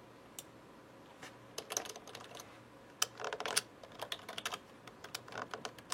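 Someone types on a computer keyboard, close and quiet, with irregular bursts of crisp key clicks and short pauses between them.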